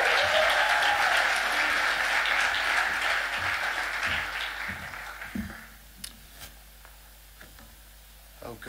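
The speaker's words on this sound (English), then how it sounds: "let's give our Director General a great big round of applause." Audience applause for the Director General at a Duke of Edinburgh's International Award Foundation event, loud and dense at first, then thinning to scattered claps and fading out.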